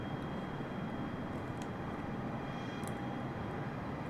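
Airplane engine drone in a flight simulator game during a landing approach with flaps lowered, a steady broadband roar heard alone at constant loudness with no talk.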